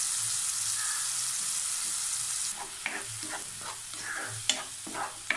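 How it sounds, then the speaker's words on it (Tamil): Carrot paste for carrot halwa frying in a pan, a loud sizzle at first, then softer frying with several distinct scraping stir strokes and knocks, close up and without talk. "நல்லா பச்சை வாசனை போகிற அளவுக்கு நம்ம நல்லா வறுக்கி விட்டுடலாம்."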